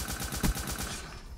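Rapid automatic fire from the DIY 11 Renovator in a video game, a dense steady burst of shots running for about a second before cutting off, loud and close with no talk over it.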